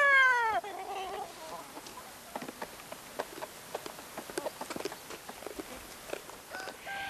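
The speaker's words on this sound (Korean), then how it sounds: "이 집에는 먹성 좋은 닭 수십 마리가 있고요." Several chickens of a mountain-village flock of dozens cluck and peck nearby while feeding, in short, scattered bursts, opening with a brief high call, the sounds irregular and fairly quiet.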